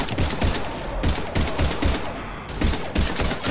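Gunfire in the Mass Effect 3 video game comes as rapid bursts of loud, close shots, several volleys in a row with short gaps between them.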